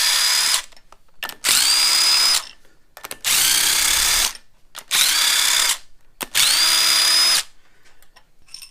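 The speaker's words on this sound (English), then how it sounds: "we can just use a power tool" A power tool spinning out the cylinder head bolts on a 2008 Subaru Impreza during head removal, loud and close in four separate bursts of about a second each, with sharp starts and stops and brief quiet gaps between them.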